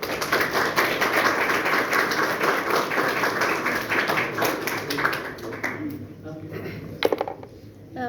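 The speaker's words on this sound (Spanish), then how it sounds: "Fuerte aplauso, por favor." An audience at a university lecture event claps in a dense, sustained burst of applause that thins out and fades after several seconds, leaving sparse scattered claps.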